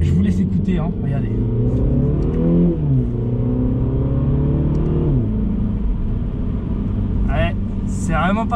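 A Mini Cooper S engine revving hard through paddle-shifted gears, with loud rising drones broken by shift dips and a rumbling exhaust, heard from the cabin while people talk over it.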